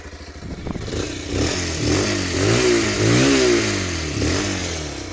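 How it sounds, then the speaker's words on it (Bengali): Exhaust of a 2026 Bajaj Pulsar 180 motorcycle, revved repeatedly in a rising and falling series of close, loud blips with a rough clattering idle between. "এবার চলুন এক্সস্টের সাউন্ডটা একবার আপনাদেরকে শুনিয়ে দিই"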